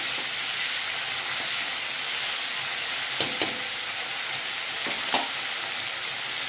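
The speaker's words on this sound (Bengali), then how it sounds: "চিংড়ি মাছটা ভাজা হচ্ছে ভালো করে। গলদা চিংড়ি নিয়ে এসেছি" Medium-sized giant freshwater prawns frying in a pan, a steady close hiss and sizzle with a few brief sharp pops and stirring clicks, no voices.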